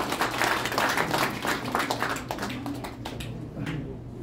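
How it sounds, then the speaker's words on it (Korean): An audience at a Korean commemorative gathering applauds to welcome arriving guests, a steady patter of many hands clapping that thins out toward the end. "박수로 환영해 주시면 감사하겠습니다"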